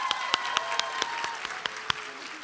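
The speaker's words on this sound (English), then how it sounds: "Give yourselves a round of applause." Audience applause at a Bridgerton Q&A panel during a television festival, a steady wash of clapping with a few sharp nearby claps standing out, lasting throughout without voices.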